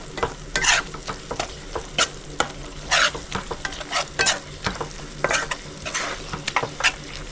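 Chicken roast masala, seasoned with ground mace and nutmeg, is stirred and scraped in a pan, giving a series of irregular close scrapes and clacks over a steady low sizzle with no voices.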